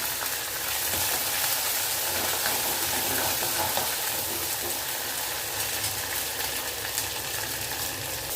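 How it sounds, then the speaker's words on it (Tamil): Small sambar onions are frying in a pan with curry leaves and garlic, producing a dense, steady crackling sizzle up close throughout, with faint stirring underneath and no speech. "இப்போ சாம்பார் வெங்காயம் போட்டுக்கலாம்."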